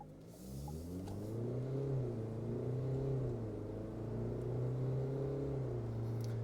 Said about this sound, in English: what's the acceleration like from the T60?